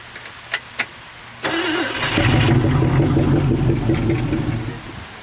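A big block Mercury car engine, off the road for 34 years, cranks with a few sharp clicks, then catches and fires into a loud, steady idle that runs on close up.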